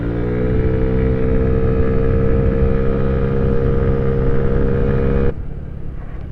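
Honda Ruckus scooter engine revving steadily and loud with a strong harmonic whine, held for about five seconds before cutting back to a lower rumble near the end.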